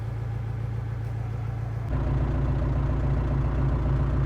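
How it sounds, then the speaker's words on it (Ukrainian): A steady, low tractor diesel engine idles nearby during loading, its rumble growing noticeably louder and rougher about halfway through, with no voices. "трактор працює на холостих обертах"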